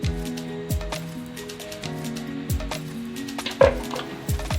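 Meat going into a hot pressure cooker with ground onion-tomato paste for arvi gosht, with a soft steady sizzle, stirring scrapes and metallic clanks of a spoon against the pot at intervals.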